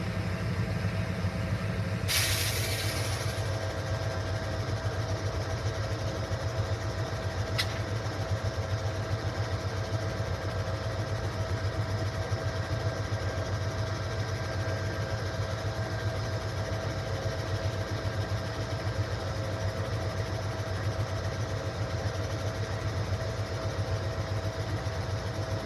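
An Amtrak No. 5 train's locomotive rumbles steadily at a fairly loud, continuous level, with a brief hiss of air brakes early on and a sharp click partway through.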